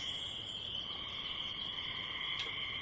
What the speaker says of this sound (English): listen to the spring frogs.